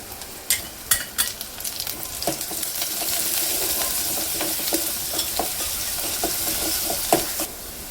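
Garlic frying with onion and ajwain in a pan for Vidarbha-style dal vangi: a steady close sizzle, with sharp stirring clinks and scrapes in the first few seconds and occasional knocks later.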